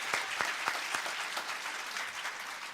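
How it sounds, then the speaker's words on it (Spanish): Audience applause at a theological debate on the Eucharist, steady close clapping from a crowd with a few sharper claps standing out, continuous throughout. "Ese aplauso más grande para el Señor."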